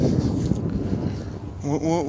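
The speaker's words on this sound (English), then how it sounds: "I know it's a little windy, sorry about the wind" Low, rumbling wind buffets the microphone throughout, with a voice rising briefly toward the end.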